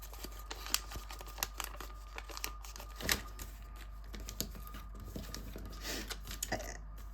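Paper creased and pressed during an origami fighter jet fold, with scattered soft crinkles and taps at close range, one sharper crackle standing out midway.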